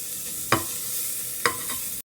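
Chicken for a dhaba-style village recipe is stirred in a pan with Byadgi chilli powder and coriander powder: two distinct scraping strokes cut through a steady background sizzle, then the sound cuts off abruptly.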